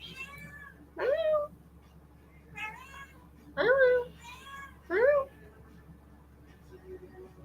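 A cat meows several times, close by: a few drawn-out, rising meows spaced a second or two apart, with faint background hum and soft voices.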